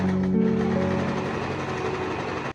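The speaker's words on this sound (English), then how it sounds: "Switching on the machine and sewing it in." A sewing machine sewing in a zipper hums and rattles at a fast, steady pace, close by and loud, then stops abruptly at the end.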